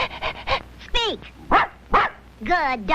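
A cartoon character's voice imitates a barking dog with a quick run of yapping barks and whining, pitch-swooping yelps, loud and close, in a magic-show scene.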